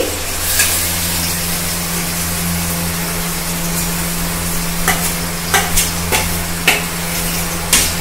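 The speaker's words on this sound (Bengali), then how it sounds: "সেই পেস্টটা কিন্তু আমি এই তেলের মধ্যে দিয়ে দিচ্ছি।" Spiced green banana and potato paste sizzles in hot mustard oil for green banana chops, giving a loud, continuous close frying hiss with a few light stirring scrapes and spatters near the end.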